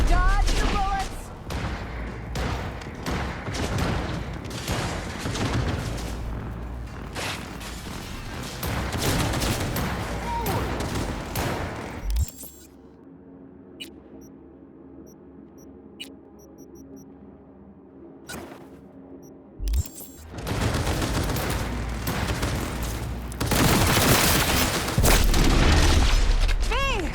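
Dense gunfire in the Cyberpunk 2077 Phantom Liberty game, with rapid loud bursts and booms for about twelve seconds, a quieter stretch with isolated shots, then heavy firing resumes; voices shout over the action.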